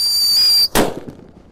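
A Happy Power 3 firecracker gives a short high whistle and then one sharp, loud close-range bang that quickly fades.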